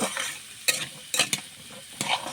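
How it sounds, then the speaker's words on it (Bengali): Vegetables with salt, turmeric and cumin powder get stirred in a pan, a soft sizzle under a few sharp scraping strokes of a spatula against the metal. "নাড়াচাড়া করে রেখে দেবো।"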